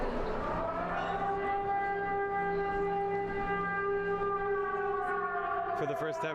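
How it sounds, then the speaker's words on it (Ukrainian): A steady air raid siren in Ukraine wails on a long sustained tone, loud and continuous, with a brief clatter of other noise near the end. "Це перший раз у моєму житті, коли я чую сирену."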